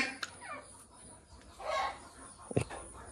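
Ducks being taken to market give a few short quacks and clucks near and fairly loud, with faint background sounds between the calls.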